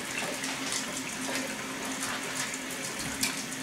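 Warm tap water runs steadily into a basin, used for cleaning a vinyl record, with a continuous hissing splash and a faint tonal hum underneath, close and fairly loud throughout with no talk.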